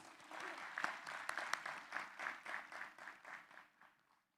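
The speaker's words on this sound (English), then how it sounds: "Please give him another round of applause" An audience in a main auditorium applauds a speaker at the 19th International & 55th Annual ELTAI conference. The clapping is steady and moderately loud, then thins out and fades to silence by the end.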